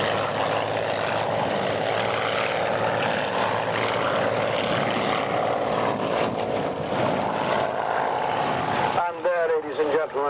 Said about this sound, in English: the mighty Daimler Benz, the Messerschmitt 109G